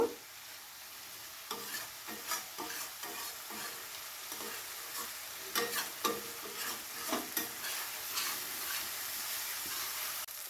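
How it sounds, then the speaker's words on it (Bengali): Mango paste being sautéed with spices in a pan for a katla fish dish, giving a steady sizzle with repeated scraping spatula strokes that come in quick bursts through the middle and end. "আমটাকে কিছুক্ষণ মশলার সাথে খুব ভালো করে কষিয়ে নেব"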